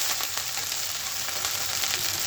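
Leftover rice stir-frying in a pan as bhaat bhaji, giving a steady, close sizzle and crackle with faint stirring scrapes, no voices.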